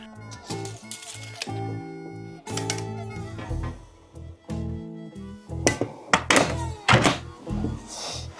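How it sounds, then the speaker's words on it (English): Knuckle tapping along a wall to find a stud: a series of close, dull knocks in short clusters, shifting from hollow-sounding taps to more solid thuds, with some rustling and handling noise between them. "that's just to tap the wall until the sound changes from that hollow sound"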